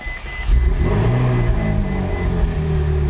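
A Ferrari 458 engine bursts into life and revs, a loud, close mechanical roar with rising harmonic tones that holds steady for a few seconds without any talk.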